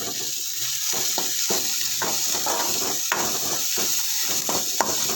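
Spinach greens sauté in a pan after salt goes in, a soft, steady sizzle with bursts of stirring and scraping up close, and no one talking.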